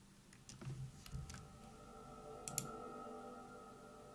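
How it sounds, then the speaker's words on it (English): A quiet, steady sustained drone hums beneath a few scattered clicks and ticks in the first seconds, then continues alone, faint and unchanging. "Then I have this sampled drone sound"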